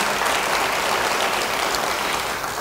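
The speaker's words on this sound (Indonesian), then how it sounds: "Beri tepuk tangan yang baik bagi dia" A church congregation applauds after a sung Amazing Grace, a dense, steady wash of clapping from many hands that stays at an even, moderately loud level throughout.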